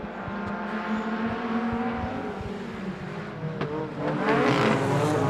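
Stock cars race around a circuit at a Border Stockcars meeting, engines droning and revving continuously with passing cars swelling louder toward the end, heard alone without talk.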